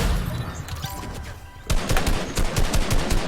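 Fortnite gunfire: after a quieter stretch with scattered shots, a loud rapid burst of close automatic fire breaks out and continues in repeated cracks to the end.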